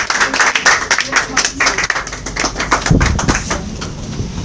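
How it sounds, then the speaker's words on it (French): A church audience applauds during a testimony session, a dense, loud crowd of clapping hands that continues throughout. A thump and shuffling sounds come near the end. "Applaudissez comme il vient."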